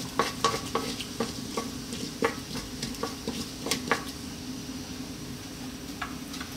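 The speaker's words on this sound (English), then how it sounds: "our black mustard seeds and our cumin seeds, and just for a few seconds let them do their thing in the oil" Black mustard seeds and cumin seeds sizzle in hot oil over high heat for a cauliflower curry, a steady close crackle with rapid irregular pops and spits throughout, no voices.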